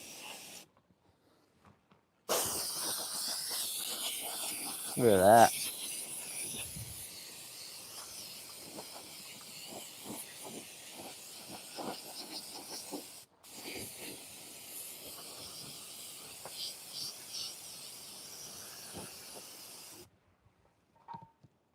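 A spray gun lays a finish coat over a carved wooden palm tree with bark detail, a steady hiss in long bursts separated by brief pauses. One short remark is spoken near the end.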